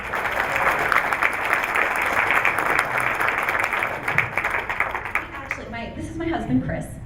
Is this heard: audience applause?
yes